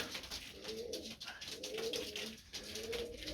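Red coloured pigeons coo repeatedly in a loft, their soft low rolling calls overlapping close by against a steady background hiss.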